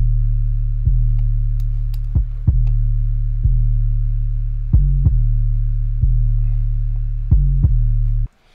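Hip-hop beat made in Logic Pro X with an 808 bass ducked by sidechain compression from the kick: a loud, sustained low bass that dips at each kick hit in a steady repeating rhythm, with faint percussion above and no talk.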